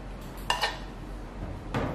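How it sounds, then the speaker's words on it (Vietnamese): Cooked salmon is pounded by hand in a mortar. A few sharp, hard knocks ring out, two close together and one later, fairly faint over a quiet background. "Mình sẽ giã tay bằng cối."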